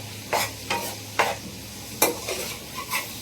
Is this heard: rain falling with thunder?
no